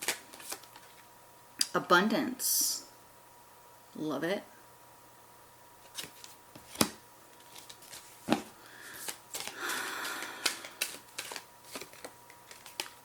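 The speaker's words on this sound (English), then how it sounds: "Let me shuffle these a little bit better." Tarot cards being shuffled by hand in a reading, with short papery riffles and slaps in bursts that alternate with a woman's speech.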